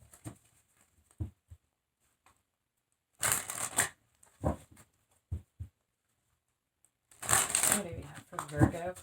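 Tarot cards being shuffled, with short papery riffles and taps coming in bursts between brief stretches of talking, close and fairly loud, ending in a longer rapid shuffle.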